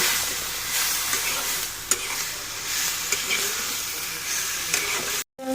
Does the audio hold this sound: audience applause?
no